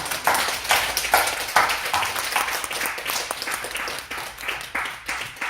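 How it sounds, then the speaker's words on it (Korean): A Sunday church congregation claps together in a rhythmic, fairly close round of applause, the beats pulsing evenly roughly twice a second throughout. "우리 영광의 박수 한번 올려드립니다"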